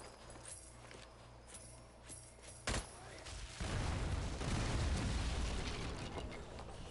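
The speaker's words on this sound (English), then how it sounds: "Explosions." Explosions in the video game Strange Brigade: a sharp blast, then a loud, sustained rumbling roar of detonations that fills the second half over a quiet musical background.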